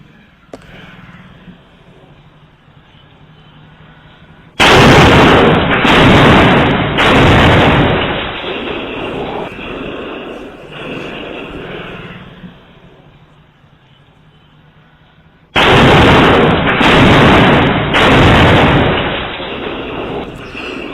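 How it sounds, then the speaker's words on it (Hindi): Three heavy thrown-bomb explosions boom in quick succession, then a quieter stretch, then three more loud blasts close together, during a bomb attack in Prayagraj, Uttar Pradesh, India. "बम धमाके की गूंज बहुत तेज थी और दूर तक आवाज सुनाई दी।"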